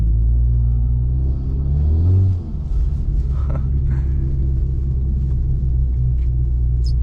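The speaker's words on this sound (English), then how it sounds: "And of course the compressor surge, as a lot of people like to hear in the videos." Tuned Volkswagen Golf R driven in a blizzard, its engine rumbling loudly up close, revving then dropping off as the turbo's compressor surge flutters briefly, followed by steady engine drone.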